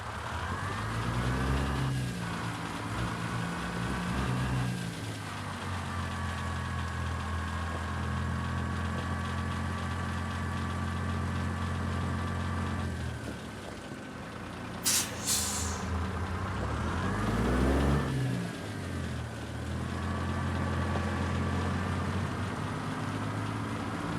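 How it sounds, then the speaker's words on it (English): A heavy truck engine in American Truck Simulator lugs low and strained with deep harmonic rumble, pitch dipping and recovering a few times, with a brief hiss burst midway. "Hear the engine lug."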